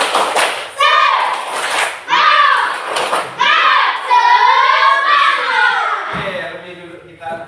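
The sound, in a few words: class doing a rhythmic clapping routine (tepuk semangat)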